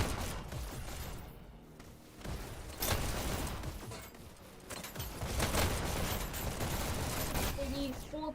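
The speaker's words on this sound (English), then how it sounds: "Oh, I see explosions." Explosions and gunfire from a competitive esports match in a video game, heard as dense, overlapping bursts and booms over a continuous loud mix, with a commentator's voice intermittently audible.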